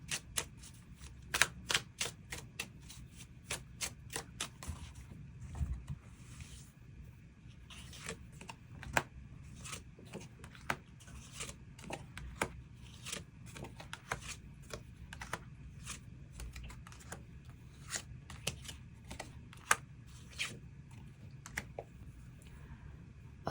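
Tarot cards being shuffled and drawn: crisp riffling bursts and sharp flicks, soft slaps of cards laid down, close and quiet, scattered irregularly over a faint background.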